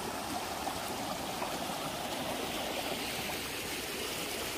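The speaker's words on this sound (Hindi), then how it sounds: "वहां चलो ना जहाँ कलकल की आवाज है।" A babbling stream at a picnic spot, with continuous rushing and gurgling water, steady and fairly close, and no voices.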